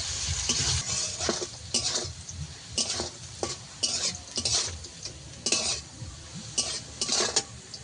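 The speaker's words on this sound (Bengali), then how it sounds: "যে শাকটা আমি ভাজা করব তার জন্য আমি এই আলুটাকে ভেজে নিচ্ছি" Potatoes fry with salt in a pan, a soft sizzle under repeated sharp scrapes and clinks of a spatula stirring against the metal, roughly a dozen strokes in an uneven rhythm, close and fairly quiet.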